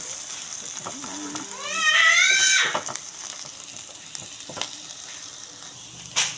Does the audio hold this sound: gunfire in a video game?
no